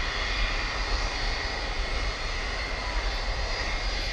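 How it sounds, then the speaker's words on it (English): Airbus A380 airliner jet engines roaring at DFW airport at night, a steady, loud, broadband rumble with a high whine on top, sustained without break and heard from a moderate distance. "so we've got two A380s here"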